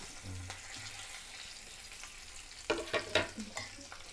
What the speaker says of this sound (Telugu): పచ్చిమిరపకాయలు బాగా వేగాలండి